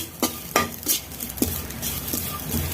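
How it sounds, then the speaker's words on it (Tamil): A cup of grated coconut is lightly dry-sautéed in a pan for aval laddu, with irregular scraping stirs of a spatula against the pan and a faint dry sizzle, close up and with no talk. "அதே வானல்ல 1 கப் தேங்காய் பூ எடுத்துருக்கேன். அதை லைட்டாக வதக்கலாம்."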